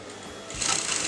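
Sewing machine stitching the front slit of a kurta neckline, a brief close, rapid mechanical whir that starts softly and quickly grows louder, with no one talking.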